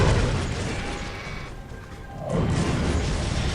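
Artillery strafing-run explosions in Warhammer 40K: Dawn of War roar as a loud, continuous barrage of booms and crashes. The barrage briefly thins in the middle before surging back at full strength.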